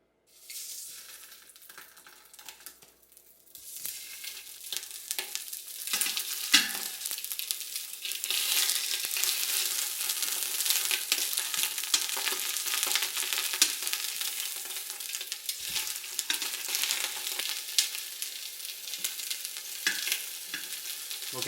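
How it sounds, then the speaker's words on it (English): Bratwursts browning on the saute setting of an Instant Pot, a loud, dense sizzle and crackle of frying that swells after a quiet start and holds steady, with no talking. "The first thing we're going to do is brown up the brats."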